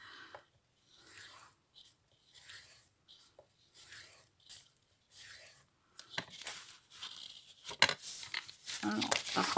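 Paper is creased into pleats for an accordion pocket folder: soft, close rubs and crinkles come in short bursts with gaps between them, then grow into louder, denser crumpling near the end, with a quiet voice now and then.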